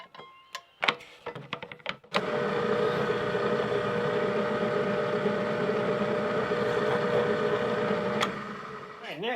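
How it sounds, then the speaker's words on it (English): Power drill boring a couple of pilot holes for screws in a wooden box-joint drawer handle, a steady loud whir lasting several seconds after a few sharp handling knocks, easing off near the end. "next is to drill a couple pilot holes for the screws"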